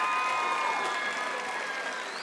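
Graduation ceremony crowd clapping in a large commencement hall, a steady dense wash of applause that holds for the whole stretch and fades slightly toward the end.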